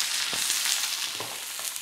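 Barramundi fillets sizzle steadily in a hot frying pan with oil, a dense continuous crackle with a few soft pops, close and fairly loud with no voices.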